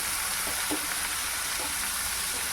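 Fish frying in hot oil in a pan, a steady close sizzle running throughout with faint scraping as the fish is moved around.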